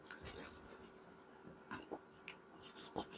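Marker or chalk writing on a board in a chemistry lecture: a few short scratchy strokes and taps, close and fairly faint, with no talking.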